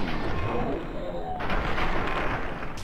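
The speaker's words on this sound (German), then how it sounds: "wir schießen ihn hier mal an" Gunfire in Fallout 3, heavy thudding shots and booms over a rumbling game background, with a voice talking over them.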